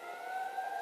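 Fire truck siren in a video game, a faint steady tonal wail held through a brief moment, heard alone.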